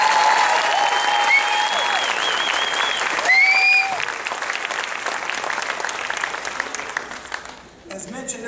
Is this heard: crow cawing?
no